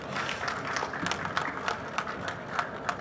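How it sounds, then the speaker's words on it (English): An audience applauding at the Big Cine Expo 2024 inaugural ceremony: a dense, steady wash of clapping with scattered sharper claps standing out, fairly distant and sustained throughout, with no talk over it. "A huge round of applause, please."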